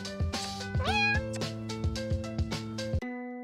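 Cats meow in a cat-dating video game, a high clear meow rising sharply over a looping game music track with a steady plucked beat, ending on a held chord.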